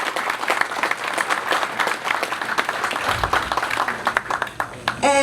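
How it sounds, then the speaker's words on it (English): An event audience breaks into steady applause, dense clapping from many hands filling the room with a few cheers, continuing for several seconds before fading toward the end. "let's give them a round of applause for the work that they do"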